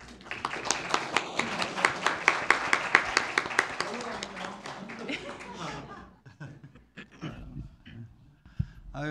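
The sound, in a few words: audience applause at youth council session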